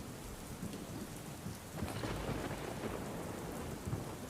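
Heavy monsoon downpour over Ahmedabad, a dense steady roar of rain hitting surfaces with low rumbles of thunder rolling underneath, swelling slightly louder midway and continuing without pause.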